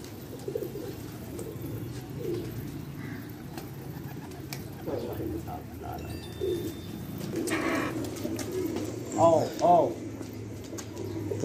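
Pigeons coo on a rooftop, their soft, low, throaty calls repeating against a noisy outdoor background, with a pair of louder, clearer coos near the end; people talk intermittently nearby.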